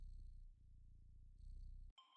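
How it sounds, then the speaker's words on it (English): Low, continuous rumbling purr of a cat in the video game Stray, in steady rhythmic pulses, close and fairly loud, ending in a brief electronic game chime. "I hear a purring."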